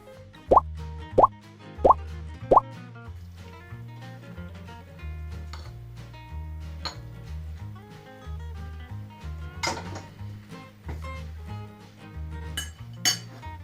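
One-pot tomato pasta is served onto a plate in a kitchen: four sharp plops open the scene, followed by scattered clinks of utensils against dishes while soft tonal music plays throughout.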